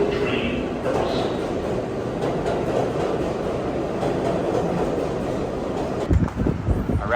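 A train rumbles through a station with a steady, loud rolling roar and clatter of wheels, a brief louder knock near the end, and faint voices underneath.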